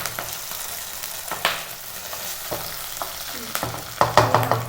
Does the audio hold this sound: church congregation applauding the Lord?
no